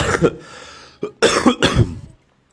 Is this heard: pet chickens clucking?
no